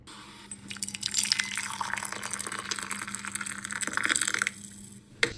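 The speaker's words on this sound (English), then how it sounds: "That's the sound of the coffee pouring." Coffee poured into a cup for a coffee-brewing show, a steady close liquid stream with trickling, splashing texture running for several seconds before stopping, with no talk over it.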